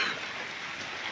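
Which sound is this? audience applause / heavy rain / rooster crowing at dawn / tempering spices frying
heavy rain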